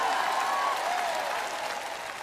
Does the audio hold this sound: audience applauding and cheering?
yes